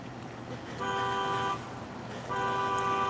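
A car horn sounds outside a building: two long honks, each lasting most of a second, with a short gap between them, distant and moderately loud over a steady background hum.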